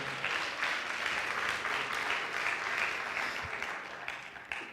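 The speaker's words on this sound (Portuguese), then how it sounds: "Dê um aplauso ao Senhor, porque é isso que Deus vai fazer." A church congregation claps in praise to the Lord, a moderate, even spread of many hands that thins slightly toward the close, with no talk over it.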